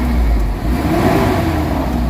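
Mitsubishi Adventure engine holding a steady, loud rev after a hot engine treatment, a continuous low drone close by with no talking over it.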